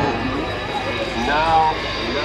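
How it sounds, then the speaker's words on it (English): An aircraft touches down on the runway at the Waddington Air Show 2014 with its big air brakes deployed: a continuous, fairly loud engine roar that swells briefly and then settles. "Brings her down onto the runway, the main undercarriage touches down."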